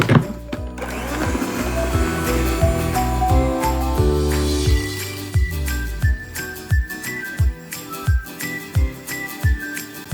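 An electric mixer whips heavy cream with a teaspoon of sugar and a splash of vanilla for New Zealand pavlova, whirring loudly and steadily, with rhythmic clinks and taps of the beaters against the bowl.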